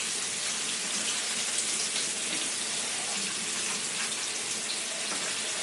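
Tap water runs steadily and continuously over vegetables being rinsed in a kitchen sink, a loud, even, close-up rush of water with no talking.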